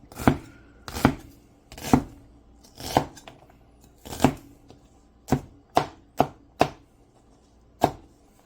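A knife chopping ingredients on a cutting board for homemade beanie weenies, a dozen or so distinct, close, sharp thuds at an uneven pace with short pauses between.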